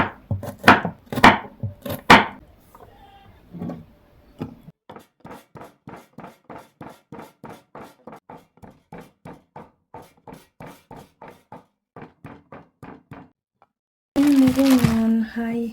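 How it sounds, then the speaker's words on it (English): Ginger and garlic crushed together in a kitchen for spicy chilli noodles: a long run of sharp, evenly spaced pounding knocks, loud and close, with a louder burst of noise at the very end. "I'm going to crush ginger together with some garlic"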